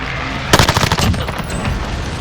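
Rapid automatic gunfire from an M1912 Thompson in Call of Duty Warzone, a loud close burst of fast shots that starts abruptly and trails into ringing echo.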